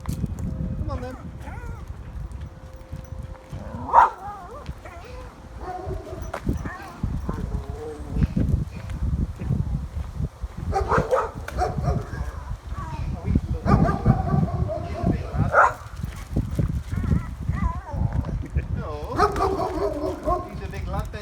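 A big dog barks and yips intermittently outdoors, short bursts scattered among frequent nearby voices and footsteps.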